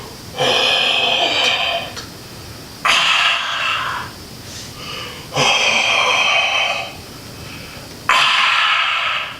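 A person imitates Darth Vader's mechanical respirator, four long rasping breaths alternating in and out, loud and close, with short pauses between.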